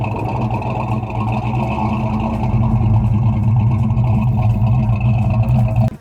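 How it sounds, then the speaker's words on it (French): A V8 muscle car engine gives a deep, steady rumble with a throbbing low burble, loud and close, holding at idle throughout. "le glou-glou du V8 se fait bien entendre"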